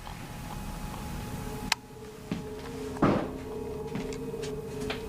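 A few isolated knocks and thuds sound at irregular intervals against a quiet hum, one sharper rap and a heavier bump.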